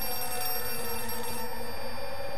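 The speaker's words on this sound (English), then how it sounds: "Where's that ringing coming from?" A telephone rings inside the horror game Outlast 2, a steady electronic ringing tone running through the whole moment at moderate level over low ambient rumble, with no talking.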